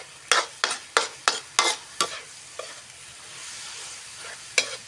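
Eggs with cucumber being stir-fried in a pan, a spatula scraping in a quick series of close, sharp strokes over a soft sizzle, then a pause before one last scrape.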